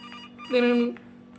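A telephone in a horror video game gives one short electronic ring, a steady tone lasting about half a second over a low background hum.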